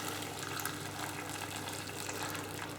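Boiled pork belly and its hot water tipped into a pot: a continuous rushing, splashing pour, close and fairly loud, filling the whole short moment with no voice.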